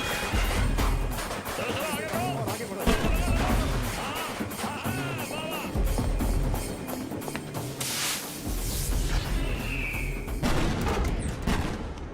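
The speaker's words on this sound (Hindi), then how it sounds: "पटाखे की आवाज है।" Rapid crackling bursts of firecrackers going off in dense volleys, loud and continuous, with a couple of heavier booms amid the noise.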